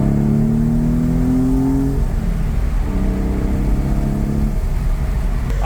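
A Porsche 993 engine with Vario Ram revs up twice, a second throttle butterfly valve opening at 4,500 RPM, climbing in pitch with a smooth, throaty whine, dropping briefly between the pulls; loud and close, no talking.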